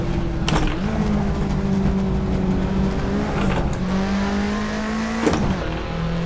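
A Ford Sierra Cosworth RS500 race car in Assetto Corsa drones at steady high revs around the Nordschleife, with brief sharp gear-change blips and the engine note stepping between pitches, loud and continuous with no talk.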